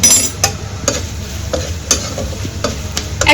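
Curry leaves with Kashmiri red chili powder and sambar powder frying lightly in a pan, a steady close sizzle broken by regular scraping stir strokes about every half second, with no voices.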